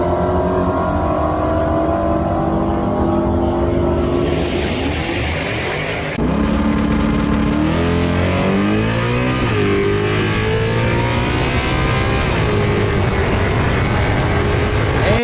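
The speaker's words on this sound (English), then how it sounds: "And there goes a Hellcat." A Dodge Hellcat launches hard down a drag strip, its loud engine note climbing through rising gear pulls with shifts, sustained and close for the whole stretch.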